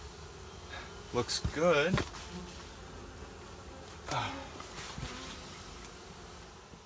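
Honey bees buzz around a beehive in winter after a broken hive is fixed and a new hive set in place, short close buzzing passes rising and fading among a brief spoken remark.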